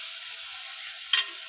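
Spice paste of onion, garlic, ginger and cumin with bay leaf and green chili fries in oil for a pangas fish curry, a steady soft sizzle with one brief clink near the end.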